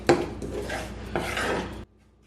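Grated coconut and rice dry roasting in a pan, stirred with a utensil that gives dry scraping and rasping strokes in two bursts before going quiet, close and fairly loud.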